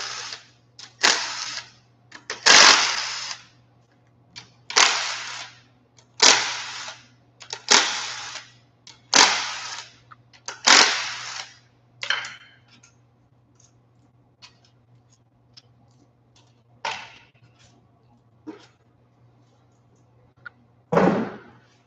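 Cylinder head bolts being worked loose on a Ford 4.8L engine during disassembly, giving about a dozen sharp, loud ratcheting bursts at a steady rhythm, then a few fainter clicks and one last burst, close by with a low steady hum beneath.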